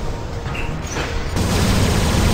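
Gunfire from robots in the War Robots video game, a dense continuous barrage of shots and booms, loud and close throughout with no pause.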